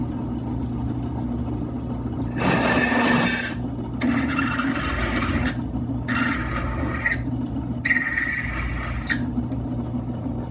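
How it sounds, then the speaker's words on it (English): A countersink bit cuts into wood in four separate raspy bursts of one to two seconds, each close and fairly loud over a steady low hum. "time to countersink these"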